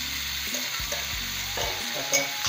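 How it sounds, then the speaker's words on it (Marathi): Boiled jackfruit pieces drop into sizzling masala in a pan, a steady close frying hiss with a few scraping stirs and soft clatters of the pieces, no voices. "आता हे आपण उकडलेले जे फणस आहेत याच्या लहान लहान तुकडे केले हे आपण यात घालणार"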